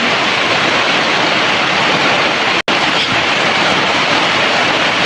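Heavy rain pours in a dense, loud, unbroken roar, nearly flooding into a house, cut by a single brief dropout midway, with no talking.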